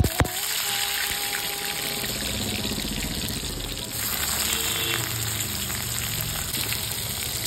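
Raw plantain pieces fry in hot oil in a wok, giving a steady, dense sizzle that stays close and even with no voices over it.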